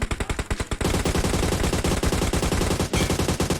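Automatic gunfire in PUBG Mobile, a rapid, steady stream of loud shots close by, starting with a few separate bursts before turning into one long unbroken barrage, with no voices over it.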